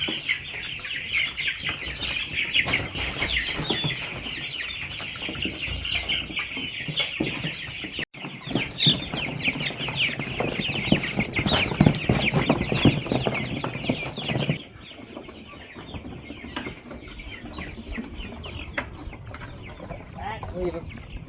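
Meat chickens clucking and squawking as they are moved by cart to a chicken tractor on grass, a continuous close chorus of clucks with occasional wing flaps, calmer in the final stretch.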